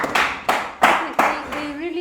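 A class claps in a few sharp, loud bursts about half a second apart, close and reverberant, with a voice starting up as the clapping fades.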